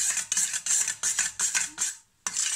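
Spiced potato filling for aloo paratha, seasoned with red chilli powder, salt and black salt, being mixed with a spoon in a bowl: a rapid run of bright scraping, clinking strokes in regular bursts, a short pause, then more scraping, close and alone.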